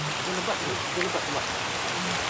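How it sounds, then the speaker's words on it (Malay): Heavy rain pours down steadily on a hill trail at Bukit Bunian, making a dense, constant hiss, while people talk in the downpour. "Hujan ni boy."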